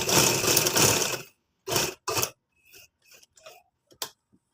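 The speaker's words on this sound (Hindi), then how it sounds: "यहाँ पे सारी सिलाई लगा लेनी है" Sewing machine stitching fabric piping: a burst of rapid mechanical stitching, then short separate bursts and faint clicks as it stops and starts, close by with no talking.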